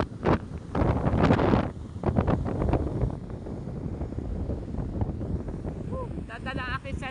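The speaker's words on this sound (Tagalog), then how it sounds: "Ayan, lakas ang hangin." Strong monsoon wind buffets the microphone in heavy, rumbling gusts, with a few faint voices and a distant high call near the end.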